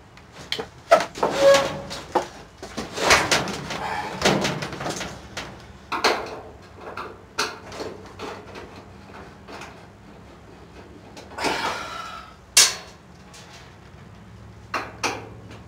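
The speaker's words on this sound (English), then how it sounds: "let's get the lid busted open on this thing and see what we got" Someone works open the lid of an electric clothes dryer, producing scattered sharp metallic clicks, clunks and scrapes in irregular bursts, with quieter pauses between them.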